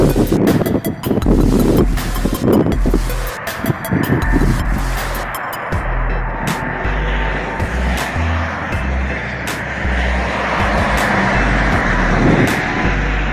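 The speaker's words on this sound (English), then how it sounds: "Nothing more exciting than traffic and highway noise." Steady roar of highway traffic in Utica, New York, on a windy day, vehicles rushing past, a broad continuous wash of engine and tire noise, loud and close, with sharp bursts early on.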